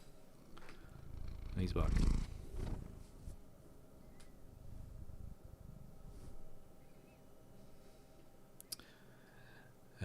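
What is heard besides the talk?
cat purring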